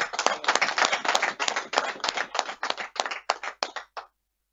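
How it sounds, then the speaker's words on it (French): Congress audience claps in tribute to a deceased man, a lively burst of many hands that thins into sparser individual claps and stops abruptly, with no talk over it. "Mais applaudissez-le."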